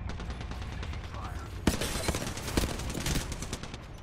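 Gunfire in the video game Apex Legends during a squad fight: rapid bursts of shots with a sharp crack partway through, loud over continuous game sound.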